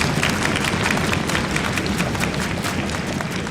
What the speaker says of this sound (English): Everybody give Caitlin a round of applause.